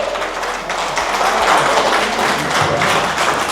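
Dense, loud clapping from a crowd at a family gathering, a continuous patter of many hands lasting throughout without a break.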